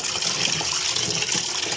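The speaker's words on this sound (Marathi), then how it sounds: "त्यासाठी ते मासे धुते जरा स्वच्छ" Steady rushing and splashing of water as about 2 kg of fish are rinsed under running water, loud and continuous throughout.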